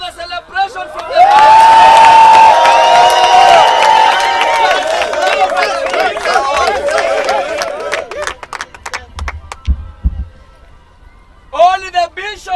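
Large crowd celebrating outside a house, loud cheering, shouting and ululating voices swelling for several seconds, then fading into scattered claps and calls before more shouts rise near the end.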